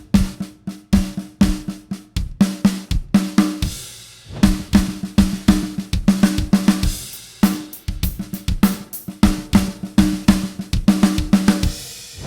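A drum fill played with an odd sticking pattern twice at the start and a simpler sticking filling the gap. Sharp, rapid stick hits and toms sound close and loud, in repeated bursts separated by brief pauses.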